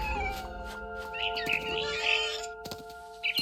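A cat meows in the video game What Remains of Edith Finch, a drawn-out call over steady tonal game music, with a few brief bird-like chirps near the end.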